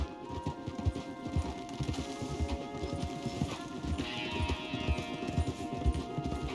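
Horse hooves clip-clop steadily on a trail in the Western video game Red Dead, a brisk, continuous rhythm of fairly quiet footfalls with a brief higher whinny-like tone partway through.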